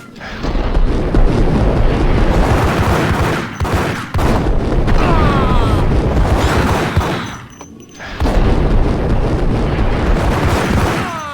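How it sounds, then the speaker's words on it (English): Explosions and heavy gunfire in the Max Payne video game, a loud, dense barrage of blasts and shots filling most of the span, with two brief lulls between bursts. "I thought it was a bomb for sure"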